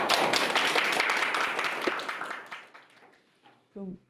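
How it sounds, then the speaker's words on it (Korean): Audience applause welcoming a speaker at a science culture forum: a burst of many hands clapping fades out over about three seconds, then a voice starts speaking. "박수로 모시겠습니다"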